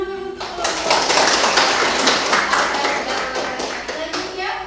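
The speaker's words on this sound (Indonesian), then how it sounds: "Ya, tepuk tangan dulu untuk kelompok." Classroom of students applauding a group, a burst of clapping that starts abruptly, holds steady and dense for about four seconds, then stops, heard close in an indoor room.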